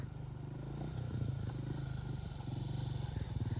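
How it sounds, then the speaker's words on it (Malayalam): A motorcycle engine drones from a distance on a road in Angola, a faint, low, steady buzz that grows slightly louder across the few seconds. "അങ്ങ് ദൂരെ നിന്നൊരു ബൈക്ക് വരുന്ന ശബ്ദം കേൾക്കുന്നുണ്ട്"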